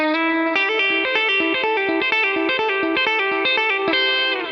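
Fast electric guitar solo lick from a song, a rapid run of clean, bright picked notes with chorus-like shimmer, played alone and steadily across the whole stretch.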